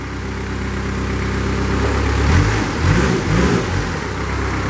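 A 2005 Moffett truck-mounted piggyback forklift's engine runs at a steady idle, then revs up in a few surging pulses before settling back, loud and close with no talking.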